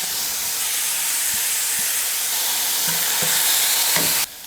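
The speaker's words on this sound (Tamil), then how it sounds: "எல்லாம் சேர்த்ததுக்கப்புறம் கொஞ்ச நேரம் நல்லா வதக்குங்க" Vegetables including carrot sizzling steadily in a hot pan, with a few soft scrapes of stirring, continuous frying hiss that cuts off abruptly at the end.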